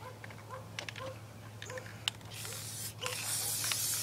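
An aerosol can sprays clear coat onto motorcycle parts from a Kawasaki KX250 dirt bike. A soft hiss builds into a steady, close, airy spray during the last second and a half, with small taps and clicks before it.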